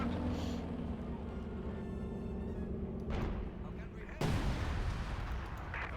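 Mortar fire in Company of Heroes 2 on a battlefield between German and Soviet forces: a steady rumble of combat with two heavy blasts about a second apart, the second sharper and louder, and faint voices underneath.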